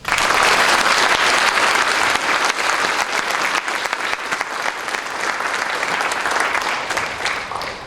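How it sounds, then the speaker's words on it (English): A crowd in a middle school audience at a Veterans Day program claps steadily, a dense, loud wave of applause that stays strong for several seconds and only eases slightly toward the end. "Let's give the Air Force a round of applause."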